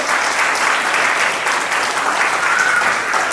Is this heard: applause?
yes